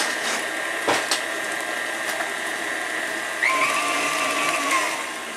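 An electric mixer beats spice cake batter with sour cream added, giving a steady close motor whine and a few bowl knocks, with the pitch rising briefly midway as the speed changes.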